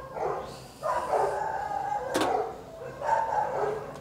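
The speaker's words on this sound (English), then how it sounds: "Damn, million dogs over there." Several dogs bark and yelp outdoors at a distance, the overlapping barks forming loose bursts with brief pauses between them.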